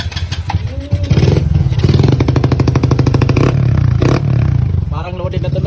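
A Honda RS125 Fi motorcycle fitted with a 26mm Keihin carburetor revs hard and close by in rainy weather, its engine note climbing and dropping through repeated throttle blips with some rattly clatter and a faint voice in the background.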